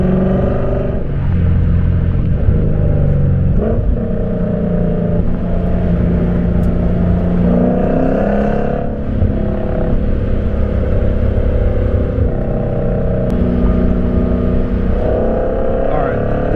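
A Lexus RC F with a loud exhaust, heard from inside during a drive: a continuous, close engine roar that rises and falls with revving and downshifts, with brief dips between gear changes.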